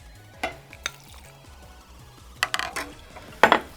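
Cornstarch mixture for classic Italian gelato is stirred in a bowl, a quiet scene broken by a few short scraping strokes and clinks of the utensil against the side.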